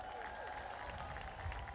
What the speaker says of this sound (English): give our other elected officials another round of applause